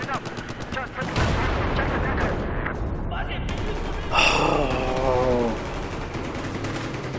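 Gunfire from a hostile machine gunner on the Siege of Shanghai map in the video game Battlefield 4, crackling in dense bursts under a player's voice, with a loud sharp burst around the middle of the clip.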